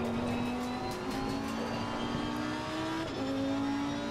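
A race car engine in a racing sim drones steadily at high revs, its pitch dipping and climbing again through brief gear changes, loud and continuous with no talking.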